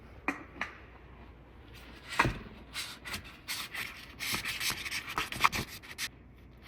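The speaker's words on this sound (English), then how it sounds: "you're supposed to take a little oil and rub it here" A fingertip rubs oil around the rubber seal of an oil filter on a 2021 Honda Civic Sport Hatchback, giving close, soft, irregular rubbing and scuffing strokes with a few sharper contact ticks.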